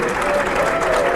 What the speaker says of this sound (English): Can I get a round of applause for Steve Paul?